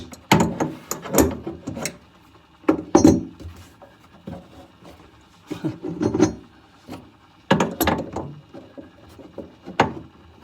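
Grinding on a basin tap fitting in a cupboard built around a sink: repeated bursts of harsh rasping and scraping, close and fairly loud, separated by short pauses.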